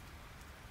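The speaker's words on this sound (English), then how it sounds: "It's raining." Rain falls in the farming game Fields of Mistria, a faint, steady wash of patter with no talking over it.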